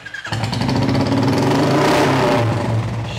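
A Royal Enfield Bullet with a long Punjab long-bottle silencer starts up and revs, a loud close motorcycle roar that rises into a throaty surge, then eases back toward a deep thumping idle.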